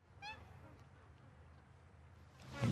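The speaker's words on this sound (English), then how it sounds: "You might not be able to hear the quaint quacking of ducks in the background there." Ducks quack faintly in the distance at an outdoor spot, with one brief honking call early on and another louder call at the very end over a steady background hiss.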